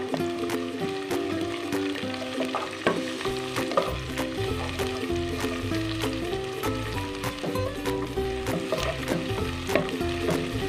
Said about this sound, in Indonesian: ini kita tumis sampai layu juga ya bawang bombaynya